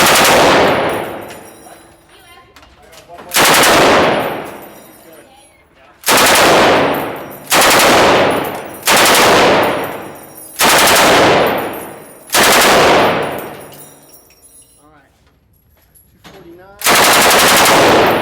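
Loud, sharp gunshots at a cowboy action shooting match, about seven blasts each followed by a long ringing decay, spaced irregularly a second or two apart, with no talk between them.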